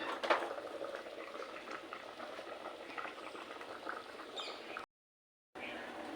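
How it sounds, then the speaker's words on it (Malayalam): Fish curry boils in a clay pot with quiet, continuous bubbling and popping, close and low in level, briefly cutting out near the end. "മീനൊക്കെ തിളക്കണുണ്ട്."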